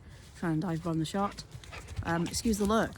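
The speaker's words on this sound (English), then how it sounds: "Do excuse my dog who's full of energy" An energetic pet dog whines and yips in short, repeated high-pitched bursts close by, while a person talks over it.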